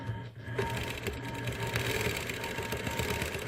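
A sewing machine stitches steadily and continuously at close range, its even mechanical whirr running for the whole stretch with no voices over it.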